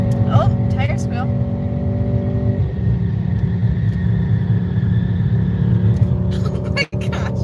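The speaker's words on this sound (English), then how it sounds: "So much tire squeal the whole time." A 2020 Mercedes-AMG GT 63 S squeals its tires steadily around an on-ramp, a sustained high whine over a constant engine rumble inside the car, with people talking.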